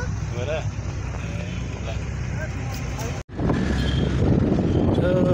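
A vehicle rolls slowly along the road toward Zero Point near Pokhara, its steady low engine and road rumble continuous throughout, with wind buffeting and a brief dropout midway.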